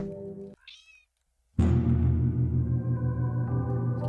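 A cat in a creepy-house video game lets out one short, falling meow, then loud, droning game music and ambience swell in.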